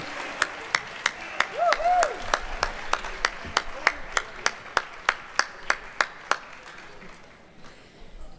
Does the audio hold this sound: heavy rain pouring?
no